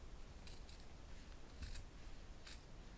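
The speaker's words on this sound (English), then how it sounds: "just put a little snip into that, then open it out and insert my scissors." Scissors snip into fabric while a double welt pocket is being sewn. About four quiet, crisp cuts are spaced irregularly over three seconds against a soft background hiss.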